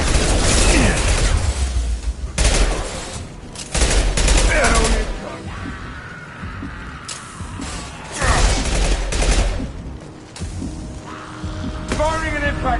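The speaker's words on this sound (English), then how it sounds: "Firing concussive shot." Concussive shot gunfire in the Mass Effect 2 game: loud bursts of weapon fire and booming impacts come in repeated clusters over a low rumbling hum, with game voices mixed in.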